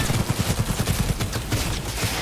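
Rapid smart gun gunfire in the video game Cyberpunk 2077, a dense run of evenly spaced shots at close range that rattles steadily for about two seconds with no talk.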